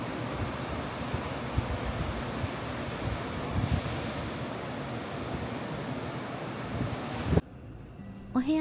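Steady roar of sea surf washing in continuously at an open-air hot spring bath on the Kyotango coast, Kyoto, close and fairly loud, with wind noise, ending in a sudden drop to quieter ambience.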